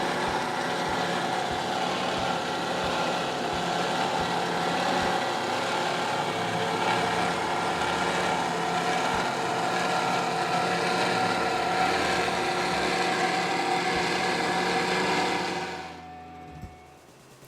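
A 1999 46-foot Skater powerboat running its big 1,200-horsepower custom-built engines, a steady loud roar and drone held for about fifteen seconds before cutting off abruptly.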